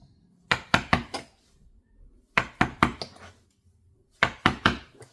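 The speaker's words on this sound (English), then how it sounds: "staple remover and a mallet" A mallet taps a staple remover to lift upholstery staples from a dining chair, in three bursts of three quick, sharp wooden knocks separated by short pauses.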